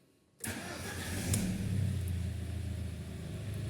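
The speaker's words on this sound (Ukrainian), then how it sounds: "Давайте запустимо автомобіль, подивимося, чи дійсно він не гасне" Audi A6 C5 with the 2.0 ALT engine cranks and fires after a short quiet pause, then settles into a loud, steady idle close by, with no voices.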